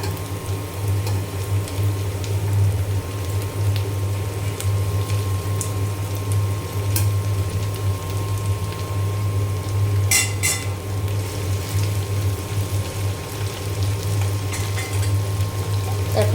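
Okra sizzling in hot oil with onion and green chilli, a steady soft frying hiss with a low hum underneath and a few faint clinks of utensils against the pan.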